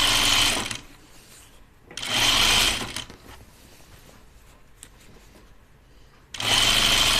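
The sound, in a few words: sewing machine stitching a dress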